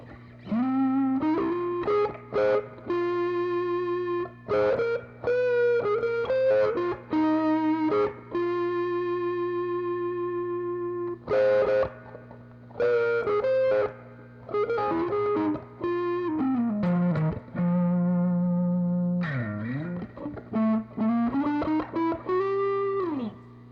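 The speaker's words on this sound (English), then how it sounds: "Distortion." A heavily distorted electric guitar plays a melodic line of sustained, gritty notes with brief pauses, thick and saturated throughout.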